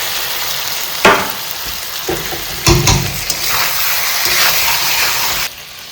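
A small tomato fries in a pan for a Bengali chicken curry, a loud, close sizzle and hiss with a few sharp stirring clatters, ending abruptly.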